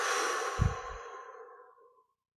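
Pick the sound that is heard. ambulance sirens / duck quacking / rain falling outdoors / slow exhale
slow exhale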